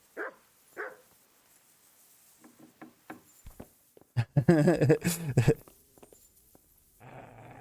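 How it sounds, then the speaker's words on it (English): A dog in the video game Kingdom Come: Deliverance gives a few short barks, spaced out and fairly faint. A louder burst of game sound follows near the end. "Shut up, dog."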